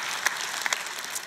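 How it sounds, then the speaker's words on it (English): A church congregation at an Easter service claps briefly, scattered soft hand claps at moderate distance with a few sharper individual claps. "let's give it up for the resurrection of Jesus. If there's anything to cheer for, that's something to cheer for"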